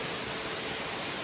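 Rushing water at Erawan Waterfall forms a dense, unbroken roar that fills the short moment evenly without any talk.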